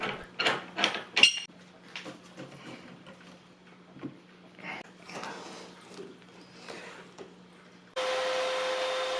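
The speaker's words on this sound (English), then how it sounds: "Vacuumed up all the metal shavings, both in the 3D printer and on the floor." A vacuum cleaner sucking up metal shavings from a 3D printer enclosure and the floor roars on steadily and loudly near the end, after a stretch of clattering, scraping handling noises and brief knocks.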